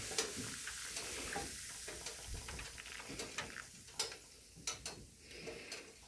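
Boiling water poured steadily into a foil-lined dish holding an old silver whistle, with a continuous hiss and fizzing, crackling sizzle dotted by sharp little ticks and pops, quiet and close.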